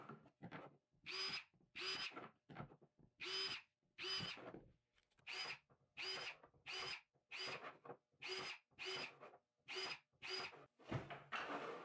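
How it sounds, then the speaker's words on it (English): A handheld power drill with a 5/32 bit bores into PVC in a rapid series of short, close bursts, each a high whining spin-up, repeated a dozen or so times with brief gaps. "I just found it a little bit easier to lay them like this and drill a hole real quick."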